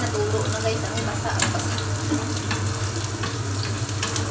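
Eggplant frying in a pan, a dense and continuous close sizzle with some faint voices in the background.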